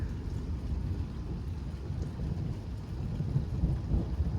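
Thunder rumbles with steady rain during a lightning storm with strong wind, a continuous low roar and patter holding an even level throughout without voices.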